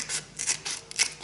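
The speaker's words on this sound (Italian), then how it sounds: "Ora semplicemente con delle forbici vado a tagliare i miei bordi." Scissors trim the edges of a paper bread bag, several quick close snips and rustling cuts in a short burst.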